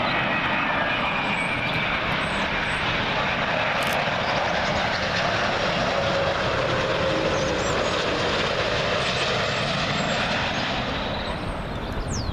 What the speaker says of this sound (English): Next one in, Virgin A330. This one's coming from Boston.